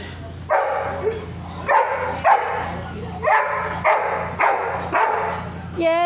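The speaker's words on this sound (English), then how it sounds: "Coconut, are you gonna start barking here?" A dog at a veterinary clinic barks loudly and close in a series of about seven sharp barks at an uneven pace, with short gaps of quiet in between.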